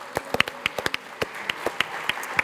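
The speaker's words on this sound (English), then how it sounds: "So you can give them a round of applause." An audience claps in a scattered round of applause at a talk on harnessing wind for energy, sharp separate claps spread evenly across the moment, fairly close and moderately loud.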